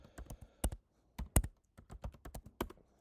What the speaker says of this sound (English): I'm going to have to type it up